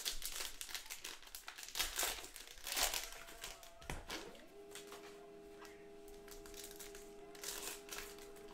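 Foil trading card packs of 2020 Prizm Cello football being torn open, giving close, loud crinkling and crumpling bursts in irregular bursts, with a steady tone running underneath in the latter half.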